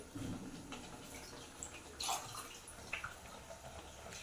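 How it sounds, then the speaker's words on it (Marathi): Water sloshes and drips as a cooking pot is rinsed out with spice-laden water while making spinach curry, soft splashes and trickles with a few sharper clinks, quiet and close. "हे आपण भांड याच्यात पाणी टाकून असं वॉश करून घेऊ"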